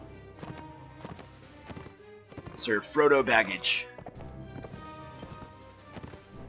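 Horse hooves clop rhythmically as a rider charges with sword drawn in Mount & Blade: Warband, a quick steady gallop beneath someone talking throughout, with a brief louder burst of game sound in the middle.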